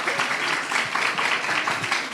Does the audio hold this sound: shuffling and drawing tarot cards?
no